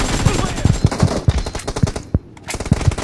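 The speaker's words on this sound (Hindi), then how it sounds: "नया गन आया ना, नया गन इससे खेल रहा हूं" Rapid automatic fire from a new gun in the mobile shooter BGMI, with bursts of sharp shots in uneven clusters and a short pause before more rounds, loud and close.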